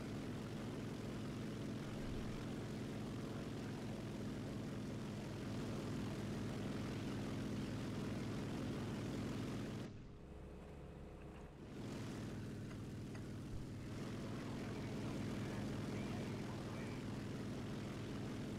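The A7M2 propeller aircraft engine in the War Thunder video game drones steadily and loudly throughout, a dense buzzing roar that dips briefly for a couple of seconds before returning at full strength, with someone talking over it.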